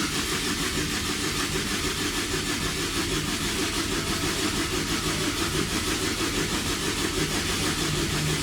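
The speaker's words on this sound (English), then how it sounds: "The second it builds oil pressure, you'll hear the engine speed up." A five-cylinder car engine cranks on the starter while oil pressure is primed during a build, producing a steady, loud, unbroken mechanical drone with a fast, even pulse throughout.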